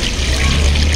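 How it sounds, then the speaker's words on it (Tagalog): Water pours into a cooking pot for a soy-sauce dish, a brief, steady, close rushing wash with no voices. "Lagyan natin ng tubig."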